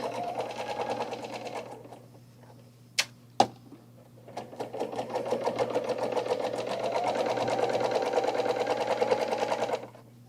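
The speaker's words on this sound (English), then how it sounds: "this gives you a chance to kind of work on the serger, get used to how it cuts" A serger sewing machine cuts and stitches denim for a tote bag, running in a steady fast whir for several seconds after a couple of sharp clicks, close and alone.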